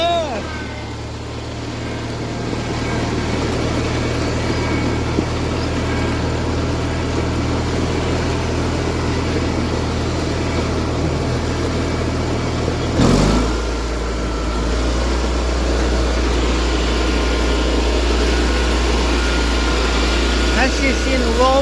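An Allis-Chalmers 917 hydrostatic garden tractor engine runs steadily and close throughout, a loud low droning hum that briefly dips and then settles back into a deeper steady tone, with voices talking over it.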